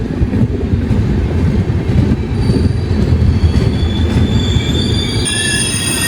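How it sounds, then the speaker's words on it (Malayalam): The KSR Bengaluru–MGR Chennai Central Shatabdi Express rolls past close by, its wheels squealing on the rails. A steady, loud roar of rolling carriages runs throughout, with high screeches rising toward the end. "KSR Bengaluru MGR Chennai central ശതാബ്ദി എക്സ്പ്രസ് ആണ് കേട്ടത്"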